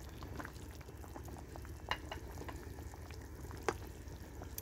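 A paste of ground onion, ginger, garlic and cumin cooks in a pot of fish curry, giving a soft, steady sizzle and bubbling with faint stirring clicks and a couple of sharper taps.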